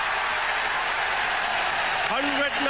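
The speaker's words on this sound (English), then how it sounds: "Tremendous ovation here from the crowd" A stadium crowd at a one-day international cricket match between Australia and India roars in a sustained, dense wash of applause and cheering after a Sachin Tendulkar century, loud and continuous throughout, with a commentator's voice briefly rising near the end.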